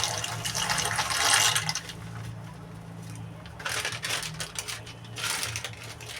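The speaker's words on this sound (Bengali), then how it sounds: "জলটা আমার ফুটে গিয়েছে এবার আমি ম্যাকরনিগুলো দিয়ে দেবো" Macaroni tipped into a pot of boiling water: bubbling, rushing water with two louder surges of splashing and clinking, steady and fairly close.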